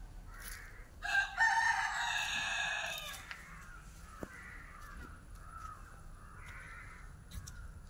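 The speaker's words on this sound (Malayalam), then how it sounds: "ആ കോഴിയുടെ ആ കൂകൽ ഇങ്ങനെ കേൾക്കുമ്പോൾ" Roosters crowing at dusk in a rural yard, one loud drawn-out crow near the start followed by fainter, more distant crows and clucks against a quiet background.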